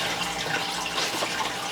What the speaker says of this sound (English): I'm gonna start by taking the tops off the tank and start draining some water